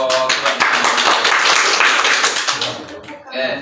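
Classroom applause for a student group at a community learning centre, a dense, steady burst of many hands clapping close by that tapers off near the end, with faint talk underneath.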